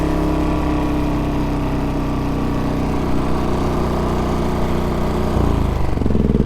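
A small gasoline engine, likely on an off-grid generator, runs close and loud with a steady chugging drone, then its pitch drops and the beat turns rougher as it is throttled down near the end.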